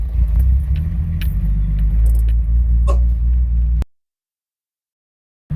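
Car engine fitted with an Offenhauser dual port intake idles steadily at about 1,500 RPM on gasoline, a close, loud, constant low rumble with faint clicks before it cuts off to silence.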